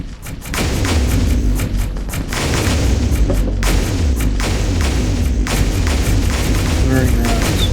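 Concussion missiles strike a Shadow 4 class destroyer in the space strategy game Distant Worlds 2, a rapid series of booming, thudding explosions over a dense continuous rumble, loud and close.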